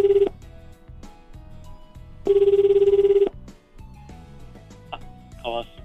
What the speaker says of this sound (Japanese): さてここで川島さんに電話をつないでお話を伺っていこうと思います。